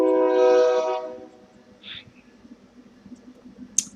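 A train rolls past on a track running down the middle of the road beside an apartment, its loud rumble fading within a second or so into quieter distant rail noise, with a brief sharp squeal near the end.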